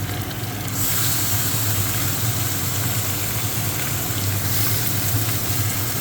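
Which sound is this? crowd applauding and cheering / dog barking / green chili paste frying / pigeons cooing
green chili paste frying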